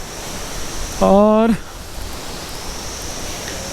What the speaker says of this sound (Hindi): ये है यहाँ का झरना जो कि काफ़ी खूबसूरत है